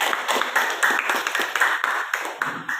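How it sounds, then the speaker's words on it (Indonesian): A small classroom group claps for a presenting group, giving steady, moderately loud hand claps from a few people close by, with no talking. "Berikan dia aplaus."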